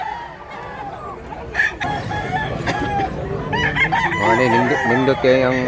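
Roosters and chickens crow and cluck loudly at an early-morning poultry market, with several strong, close crows building toward the end while someone talks over the flock.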